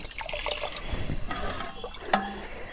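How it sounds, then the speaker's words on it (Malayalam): Water poured out by hand in a home kitchen, a short close splashing trickle with a brief sharper splash near the end. "വെള്ളം ചൂടായിട്ടില്ല, അതാണ് ഇങ്ങനെ എടുത്ത് ഒഴിക്കുന്നത്."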